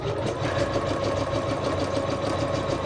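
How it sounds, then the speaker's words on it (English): An embroidery machine stitches steadily on a slow setting of about 400 stitches per minute, giving a continuous close whirring hum with a fast, even mechanical pulse throughout. "I'm just going to press start, and off it will go, and it will start stitching"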